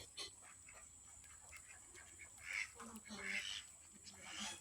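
Ducks on a village pond call faintly from a distance, giving several soft honking quacks in the second half over low ambient noise.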